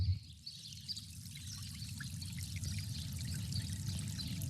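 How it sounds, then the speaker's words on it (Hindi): Water pours and trickles steadily in a waterfall setting, a continuous splashing flow with faint birdsong above it and no voices. "झरने की मधुर ध्वनि"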